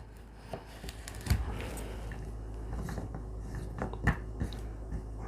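A knife cutting through a raw quail on a board, with soft irregular slicing crunches and a few sharper cracks as the blade meets bone, close and quiet with no voices.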